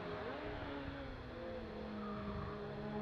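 Ferrari race cars from the Group 5 modified class in a classic Ferrari race at Oulton Park circuit, engines droning steadily as a car passes close on track, loud and sustained throughout with no voices.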